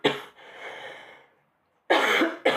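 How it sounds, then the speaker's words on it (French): A woman's coughs: a short burst followed by a rasping trail, a pause, then two more sharp close coughs near the end. "Pardon, j'ai toussé."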